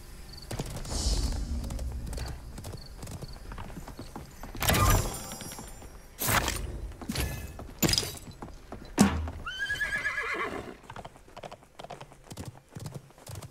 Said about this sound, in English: Sounds like I got the loudest horse in the game.